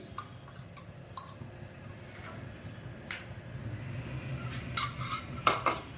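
A spoon clinks against a pot while curd is mixed in it, a few scattered scraping taps with sharper clinks near the end over a low steady hum.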